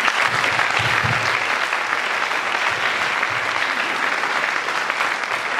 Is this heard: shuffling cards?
no